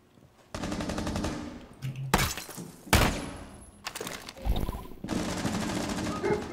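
Automatic gunfire in Rainbow Six Siege, loud close bursts of rapid shots with sharp single cracks and breaking-glass impacts between them, separated by short pauses over a dense game background.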